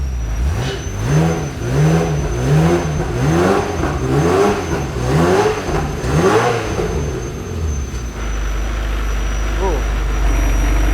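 A Ferrari F355 engine with idle trouble and misfire hunts at low revs in a slow rising and falling rhythm, loud and close, then settles into a steadier low drone.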